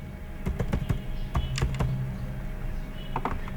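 Keys on a computer keyboard clatter in quick, uneven bursts as an email ID is entered, with a pause in the middle before a final short run of taps, close and clear.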